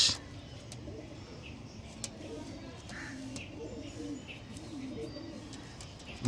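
Pet pigeons of Punjabi and Andhra old-line breeds cooing softly in a home loft, low murmuring coos repeating under a quiet background hum, faint and close.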